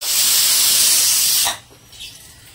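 Steam hisses loudly and steadily from a pressure cooker of vegetable masala pulao as its whistle is taken off, then cuts out abruptly, leaving a quieter faint hiss.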